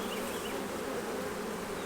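Honey bees hum in a dense, continuous buzz while a beehive is opened for inspection, close and steady, with no voices present.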